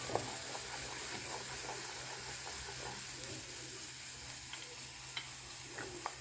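Ground masala powder fries steadily in a pan for chicken pickle, giving a continuous soft sizzle and hiss with occasional faint scrapes of stirring, fairly quiet and without any voices.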